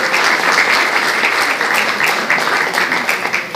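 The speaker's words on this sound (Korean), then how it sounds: "큰 박수 부탁드리겠습니다" An audience at a formal gathering on military law reform breaks into steady, dense applause, many hands clapping together at an even level throughout.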